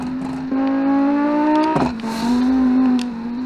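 A rally car on a river rally stage with a sequential gearbox, its engine loud and close as it revs up in one long rising pull, cuts sharply at a gearshift, then drones steadily on at high revs.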